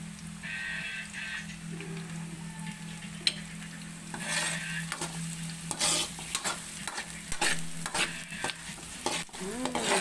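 Onion sizzles in a pan over low heat while a utensil stirs and scrapes it, as the first step in cooking salmon head sinigang. The frying hiss runs constantly, and the stirring clatters come close and irregular, with no talking.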